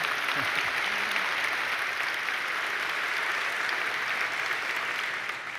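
Sustained audience applause fills a hall at an ArcGIS presentation, a dense, steady wash of clapping from many hands that holds for several seconds and fades slightly at the end.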